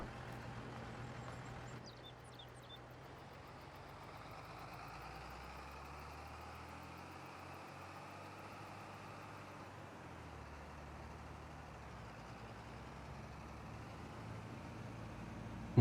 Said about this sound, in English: I did leave the tractor running.